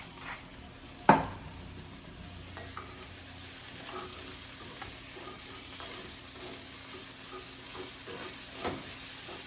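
Vegetables for an egg white frittata sizzle quietly in butter while being stirred, with a soft, steady frying hiss, a sharp clink of a utensil near the start and a lighter knock later.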